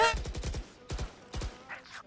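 Rapid bursts of gunfire from the tactical shooter Valorant, three or four clustered shots followed by two more separate bursts, loud and close, with a faint voice near the end.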